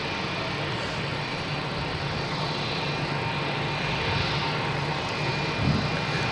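JetBlue airliner jet engines at Boston Logan International Airport roar steadily and fairly loudly, swelling slightly toward the end, with no speech.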